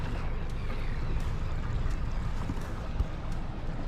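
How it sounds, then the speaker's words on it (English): Boat idling or moving slowly on calm water just after launch at a Tasmanian wharf at sunrise, giving a steady, close, broadband rumble of engine and water wash with no talk. "Just launched the boat."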